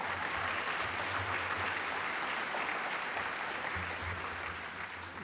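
Sustained audience applause at a gala dinner in a large room, dense steady clapping from many people throughout.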